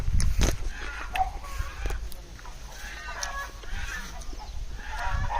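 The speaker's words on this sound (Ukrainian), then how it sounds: "Чуєте, що тут курочки, гусочки." Chickens and geese cluck softly at a moderate distance, with occasional louder bird calls and knocks over a quiet outdoor background.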